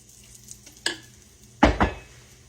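Banana pancake batter in a hot pan on the stove, with faint sizzling under a couple of sharp metallic clinks and scrapes of a utensil against the pan.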